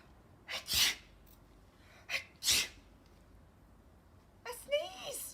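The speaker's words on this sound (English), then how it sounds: "if you do a really big sneeze" A few loud, close sneezes, each with a quick inhale then a sharp burst, followed at the end by a voiced sneeze mixed with a sound from the mouth.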